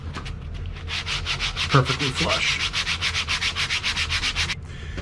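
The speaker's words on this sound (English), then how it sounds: "just take some sandpaper and just sand your dowel" Sandpaper rubs back and forth over a wooden dowel plug in a grand piano leg repair, a steady rhythmic scratchy sanding up close with regular strokes, briefly under a few spoken words.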